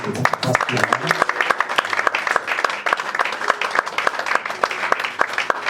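A church congregation applauds the Mengo couple with steady, dense clapping that is close and loud and keeps going without a break, with faint voices mixed in.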